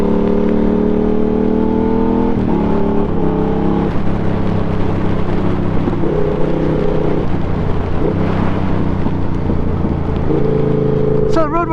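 A Yamaha MT-07 motorcycle engine drones loudly up close while riding, its pitch climbing and then dropping at several gear changes, with a brief high whine near the end.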